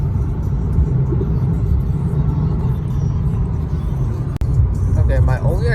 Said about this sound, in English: Freeway driving POV.